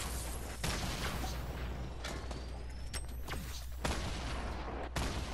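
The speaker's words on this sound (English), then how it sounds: "He just shot a launcher over here." Rocket launcher blasts and sharp gunfire crack through a Fortnite Battle Royale match, with several loud, broad bursts landing amid constant dense game noise.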